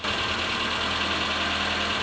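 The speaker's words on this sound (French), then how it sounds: "je peux savoir pourquoi vous laissez tourner votre moteur?" A parked car's engine idles on a city street in a steady, close, continuous rumble with a faint knocking vibration and no voices.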